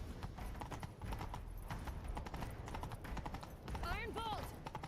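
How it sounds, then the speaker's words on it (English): Hooves of galloping horses clip-clop in a fast, steady rhythm during a video game chase, under raised voices, with a horse whinnying near the end. "Grab a horse, we'll chase him down."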